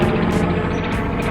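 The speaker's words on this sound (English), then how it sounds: "Oh, and a helicopter right above me." Helicopter overhead, a brief loud rotor chop with a steady engine drone and regular pulsing blade beats, heard outdoors close above without talking.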